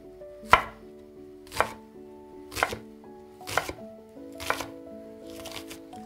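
An onion is chopped finely with a knife on a cutting board: six distinct, evenly spaced chops about a second apart, close and clear over a faint steady tonal hum.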